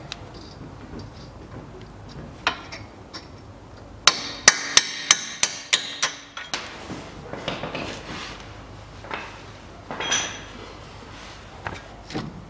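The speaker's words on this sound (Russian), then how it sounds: "Выбиваем болт." Hammer blows knock out a bolt on the front hub of a 2010 Chery Amulet 1.6 during a wheel bearing replacement: a burst of about eight sharp, loud metallic strikes in quick rhythm, followed by scattered clanks and clinks of tools nearby.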